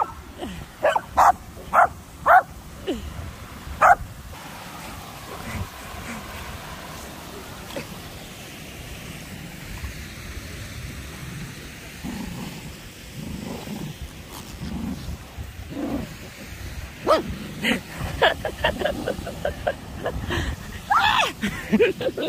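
A dog at Ingleton Waterfalls barks in short bursts at the start and again near the end, fairly close, with someone talking between the barks over a low outdoor rumble.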